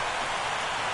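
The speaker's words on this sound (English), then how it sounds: "you really can't take anything for granted out there when you're playing in the rain" Steady rain falling during a rain-soaked baseball video game, a dense, even hiss of drops holding at constant loudness throughout, with no voices.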